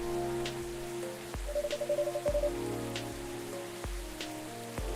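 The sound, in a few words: rain falling in the video game Coffee Talk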